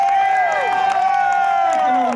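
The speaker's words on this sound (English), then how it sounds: "Let's give her a big round of applause" A crowd at the Simply Smyrna community celebration applauds and cheers, with a bright whoop or whistle-like tone rising over the clapping and a murmur of voices.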